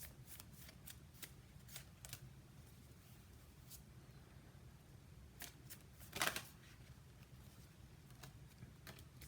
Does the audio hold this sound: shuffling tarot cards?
yes